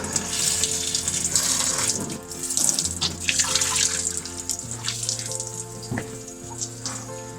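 Steady tap water runs and splashes continuously while a pet king cobra is bathed on a hot, muggy day, with a few louder splashes and a low hum underneath.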